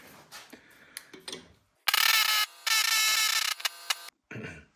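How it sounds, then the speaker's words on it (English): An air hammer punches out the pinion of a Toyota Supra differential, firing in two loud, sustained bursts of rapid hammering after lighter mechanical clicks and taps, with a short tail of rattling at the end. "I'm going to air hammer that pinion, and hopefully it just pops right through without any difficulty"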